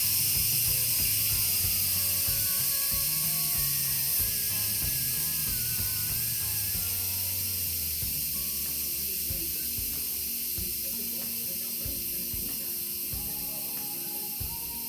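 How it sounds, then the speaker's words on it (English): Steam hisses steadily from an Instant Pot pressure cooker during a manual pressure release after cooking cashew chicken, a loud continuous spray lasting throughout, with faint clicking and rattling underneath. "we're going to go ahead and release the pressure"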